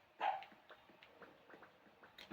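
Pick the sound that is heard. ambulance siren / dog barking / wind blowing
dog barking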